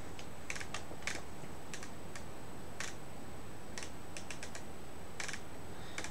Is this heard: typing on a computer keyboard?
yes